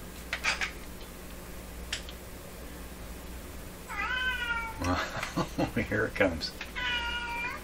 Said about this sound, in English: My cats are ganging up out there.